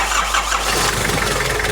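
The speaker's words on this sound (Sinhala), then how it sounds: "ඔයිල් දාලා ආයේ එන්ජින් එක ස්ටාර්ට් කරනවා" A Nissan car engine turns over and catches after oil is added during power steering box repair, settling into a steady mid-pitched running drone that stays loud and close for the whole moment.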